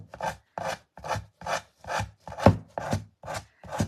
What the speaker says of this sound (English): I want to sand off these little edges that are on here.